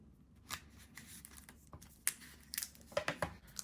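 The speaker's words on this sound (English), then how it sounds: "you're presented with the phone in this sort of plastic wrap. Let's take that out." Plastic wrap being pulled off a Samsung Galaxy S23 FE phone in Graphite during unboxing: quiet crinkling and tearing rustles with several sharper crackling bursts toward the end, close up, no talk.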